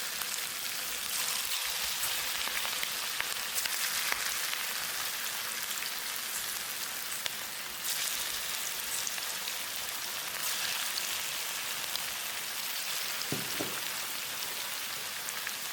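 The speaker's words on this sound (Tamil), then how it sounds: "எண்ணெய் நல்லா காஞ்சிடுச்சு. இப்போ வறுத்து எடுத்துக்கலாம்." Chicken pakora pieces frying in hot oil over a medium flame, a steady dense crackling sizzle holding without pause, with a couple of faint clinks near the end.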